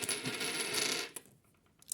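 2 euro coins clink and jingle as coin rolls are unpacked, a dense bright metallic rattle for about a second, then a few scattered light clicks, close and alone.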